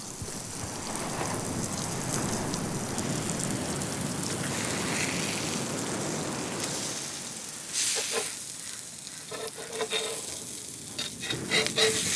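Rava-coated manthal fish frying in a pan, a dense continuous sizzle of hot oil like steady rain, holding level for several seconds before thinning into crackles and pops near the end.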